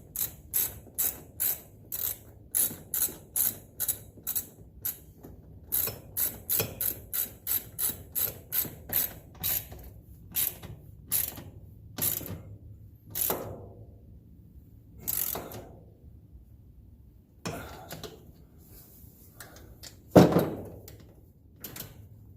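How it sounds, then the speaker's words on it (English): An Allen wrench tightens a part on a Can-Am X3, making a rapid series of ratcheting clicks that slows into spaced single clicks and a final louder clunk, close by. "hold my Allen wrench on the backside. Go ahead and tighten this guy up so that it's in the right position."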